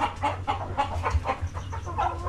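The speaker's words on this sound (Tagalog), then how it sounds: "Ay, nangingitlog si Black" A hen clucks in repeated short, rhythmic bursts while laying eggs. The sound is fairly close, with a low background hum and no talk.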